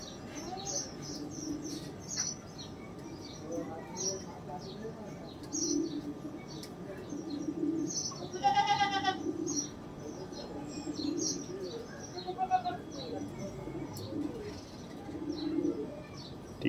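A pair of golden dub pigeons coo in low, repeated throaty phrases, with sharper chirps and tweets from other birds scattered around them at close to moderate distance.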